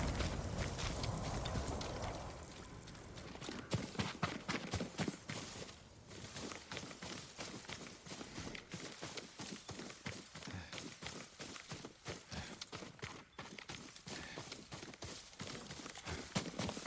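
Hooves of a horse in the Ghost of Tsushima video game, a steady run of clip-clop footfalls after a brief louder opening, continuing at an even pace to the end.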